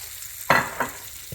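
New potatoes sizzle in a pan of butter and oil, a steady frying hiss broken by two short stirring scrapes.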